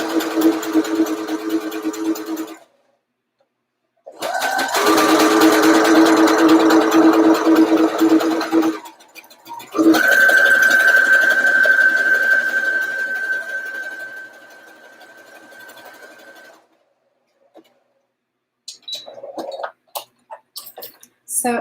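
A sewing machine stitches the side seams of a skirt in bursts of steady mechanical whirring, with pauses between runs and someone talking over parts of it.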